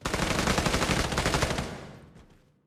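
Enemy gunfire in the video game Lost Light, a rapid automatic burst of shots at moderate distance lasting about two seconds before fading away.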